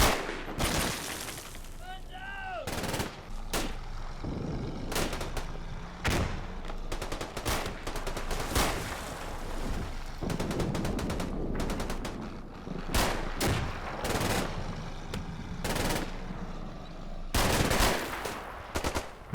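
Sustained MG42 machine gun bursts in the Combat Mission: Final Blitzkrieg wargame, dense overlapping rattles and sharp cracks of battlefield gunfire filling the whole stretch with little pause.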